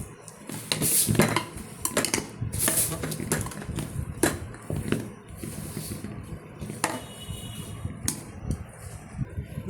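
A spoon stirs fish biryani in a pot, producing loud, close metallic scrapes and clanks in irregular bursts, with rustling movement between the knocks.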